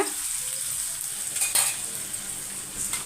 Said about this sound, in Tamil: இப்போ பாருங்கள் வெங்காயம் இந்த அளவுக்கு வதங்கினா போதும் நம்மளுக்கு